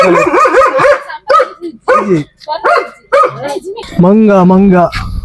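A pet dog gives short barks and a drawn-out whining yelp, close by and mixed in with people talking loudly.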